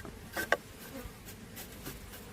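Honey bees buzz angrily at a hive, a close, agitated insect drone with a couple of sharper whines rising briefly over the steady hum.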